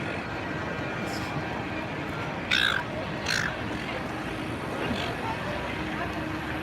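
Two or three cawing crows on the ground near a train area ring out over a steady outdoor hum of distant traffic or aircraft.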